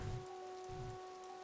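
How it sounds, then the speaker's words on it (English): Soft rain from the Animal Crossing New Horizons game falls steadily under faint, sustained musical tones, with a couple of low rumbling swells, quiet and alone with no talking. "rain."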